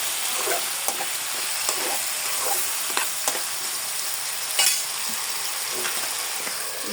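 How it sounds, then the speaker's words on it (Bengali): Cauliflower frying with spices and salt in a pan for a Bengali rui fish and cauliflower curry, giving a continuous loud hissing sizzle with occasional soft scrapes of stirring. "এখন শুধু ফুলকপিটা ভালো করে কষাতে হবে"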